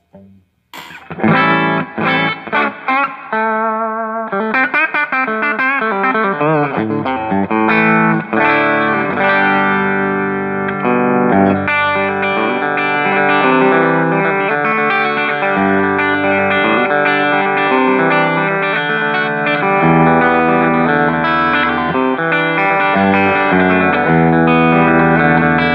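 A bright, chiming electric guitar strums and arpeggiates chords through a Quilter Superblock UK amp on top boost in 1W pedal mode for an extended stretch, loud and sustained with a ringing, slightly driven edge.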